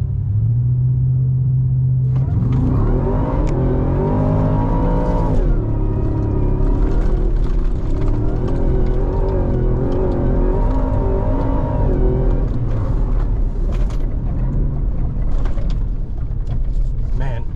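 A 2024 Ford F-150 Raptor R in sport mode on sand dunes, heard from inside: a deep engine rumble rises in a loud revving surge, then holds a heavy drone through bumps and shifts.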